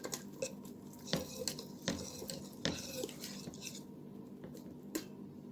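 A whisk beats flour batter in a bowl, scraping and tapping against the sides in irregular strokes with soft wet swishing between, close-up and fairly quiet.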